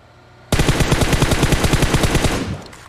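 Rapid automatic gunfire from a shooting video game, a dense string of evenly spaced shots that bursts in loud and close, keeps a steady rhythm for about two seconds, then stops abruptly, with no talk over it.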